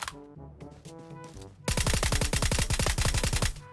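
Rapid automatic gunfire in a multiplayer shooter video game, a dense loud burst of evenly spaced shots lasting about two seconds after a quieter stretch of game music and effects.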